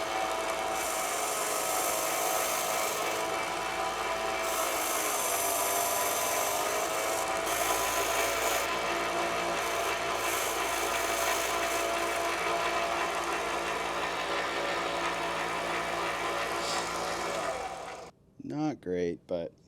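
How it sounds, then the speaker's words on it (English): A power tool whirs and grinds steadily while turning down golf club material during a driving iron build, a dense continuous mechanical drone that cuts off near the end, followed by a few short bumps and handling noises. "I'm still trying to get the hang of turning this stuff down with power tools"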